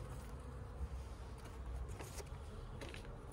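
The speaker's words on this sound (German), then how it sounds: "die Bienen sind nicht unruhig" Honey bees hum at an opened hive box, worked without smoke while calm, giving a faint, steady buzzing drone with soft rustles and no talking.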